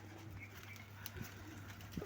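Pigeons cooing in a loft where young pigeons are kept, a low steady murmur running through the whole stretch against a constant background hum.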